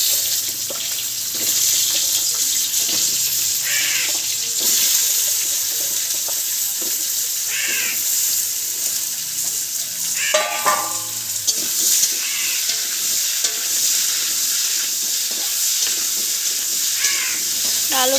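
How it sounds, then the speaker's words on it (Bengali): Cut potatoes fry in oil in a home kitchen, giving a steady, close sizzling hiss that persists throughout, with crows cawing and occasional water splashes nearby. "আলু ভাজা বসিয়ে দিয়েছে"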